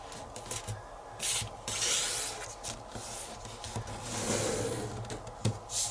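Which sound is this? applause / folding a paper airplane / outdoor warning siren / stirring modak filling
folding a paper airplane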